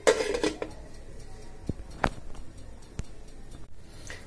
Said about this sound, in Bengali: এখন আমি ঢাকনাটা দিয়ে দিব